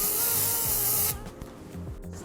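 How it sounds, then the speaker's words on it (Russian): Spray wax hisses onto a strand of long hair in a steady, loud burst for about a second, followed by quieter rubbing and handling sounds. "Далее обрабатываю прядь спрей-воском."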